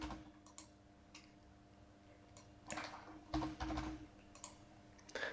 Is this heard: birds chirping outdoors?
no